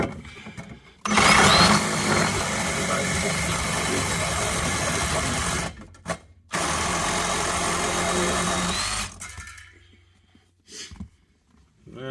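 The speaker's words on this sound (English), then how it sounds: "Let me get the sawzall out." A sawzall reciprocating saw buzzes loudly while cutting on an LS-swapped third-gen Camaro, running in two long bursts separated by a brief pause before cutting off and falling quiet.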